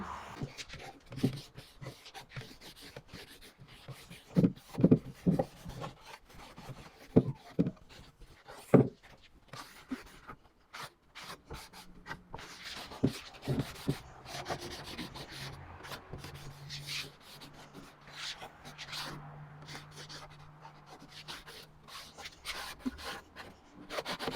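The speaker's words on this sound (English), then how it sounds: "I'm going to be wiping this piece down with a damp cloth to get rid of any dust" A damp cloth wipes dust off a wooden planter box in close, irregular rubbing swipes, with an occasional soft knock against the wood.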